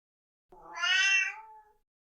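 A single cat meows once, a clear, drawn-out call that rises and then fades, close and alone against silence.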